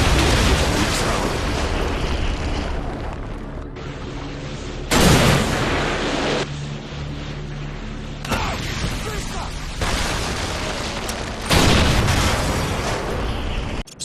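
A Predator missile strikes in Modern Warfare 2 on the Highrise map, loud booming blasts and rumbling bursts that recur across the stretch, with voices talking among the explosions.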